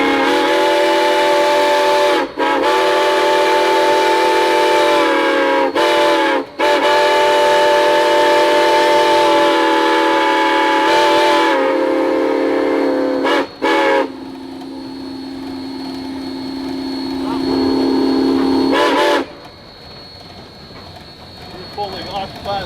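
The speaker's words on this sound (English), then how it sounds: "you want to time your whistles so that the last one carries the end of the process" Loud, sustained steam locomotive whistle blasts with sharp breaks between them, timed for a crossing, the tone shifting and thinning toward the end.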